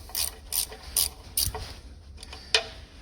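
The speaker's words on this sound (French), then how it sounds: "j'ai 4 boulons à défaire par en dessous pour désolidariser la pompe de son support." A ratchet wrench undoes bolts beneath a farm crop sprayer pump, giving four quick clicking bursts in a steady rhythm, then a pause and a final sharp click, close up and alone.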